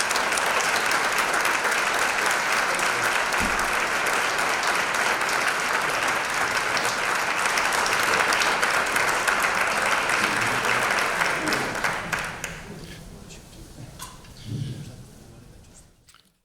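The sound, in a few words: audience applause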